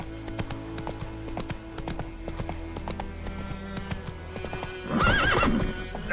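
Roach the horse gallops in a video game, rapid rhythmic hoofbeats thudding close and steady, then a sharp whinny near the end.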